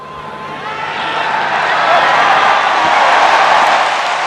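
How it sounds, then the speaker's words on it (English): A large stadium crowd at a Fiji versus Italy rugby international roars in a broad sustained swell of cheering after a successful kick at goal, loud and continuous. "Crowd tells you he's successful once more."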